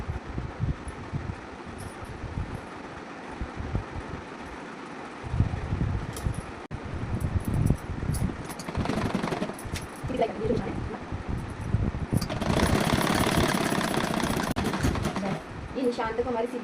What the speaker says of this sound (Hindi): यहाँ तक स्ट्रेट सीधी सिलाई कर देंगे